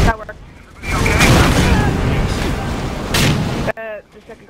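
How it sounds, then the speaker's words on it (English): Explosions in the co-op campaign of the video game Rainbow Six Vegas 2 on Xbox 360, with a loud sustained roar of blast and rumble that swells again near the end before cutting off, followed by brief talk. "The second explosion was mine."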